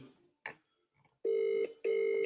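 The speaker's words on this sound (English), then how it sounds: "I'm ringing Tunde" Outgoing telephone call ringing tone, two long steady electronic rings with a pause between, clear and close, after a brief burst of noise and no talk over the tones.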